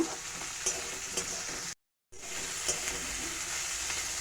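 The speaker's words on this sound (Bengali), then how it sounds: "এখন দিয়ে দিচ্ছি কুচিয়ে রাখা পেঁয়াজ পেঁয়াজটাকেও ভালো করে ভেজে নেব" Chopped onions frying in a pan as the base for an egg tarka, a steady close sizzle with light stirring. The sizzle breaks off for a brief moment of silence, then resumes.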